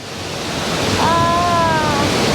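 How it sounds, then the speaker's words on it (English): A waterfall at a work site in Indonesia sends up a steady, loud roar of rushing water and mist, a broad continuous wash that swells slightly, with a brief whistle-like tone over it near the middle. "the mist from the waterfall is coming here"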